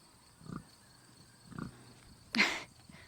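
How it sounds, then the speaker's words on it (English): A wet, muddy pig near a farm ravine and fence gives two low grunts about a second apart, then a sharper, louder squeal, close by with no talk. "Run, pig, run."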